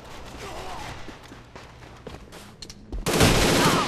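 FAMAS rifle firing in a video game, a few scattered sharp shots followed by a loud sustained burst near the end, with faint footsteps and game noise beneath.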